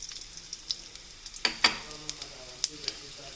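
Cumin and asafoetida frying in sesame oil for pepper curry, heard as a faint sizzle with scattered sharp crackles and pops, a few louder bursts near the middle.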